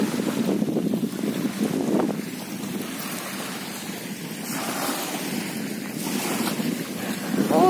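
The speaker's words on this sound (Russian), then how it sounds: "Вот какое прелестное, чудесное море." Waves and gusting wind on the Sea of Azov shoreline roar steadily, with surges of surf and buffeting wind noise on the microphone, rising and falling over several seconds.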